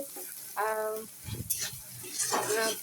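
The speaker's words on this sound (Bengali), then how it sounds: "তো এটা ভালোভাবে ভেজে নেবো মশলাটা" Spice paste masala for chicken curry frying in a pan, a continuous sizzle with stirring scrapes and utensil knocks, while a voice is heard briefly over it.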